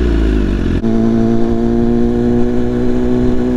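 A BMW S1000RR sport motorcycle riding through Manhattan streets, its engine droning loud and close with a steady mid-pitched hum after a brief gear-change dip.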